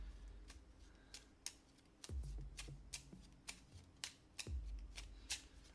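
Cards being shuffled during an Etherfields board game session, a run of quick riffling bursts and sharp snaps, close and fairly quiet, with a few low thumps of the deck hitting the table and no talk.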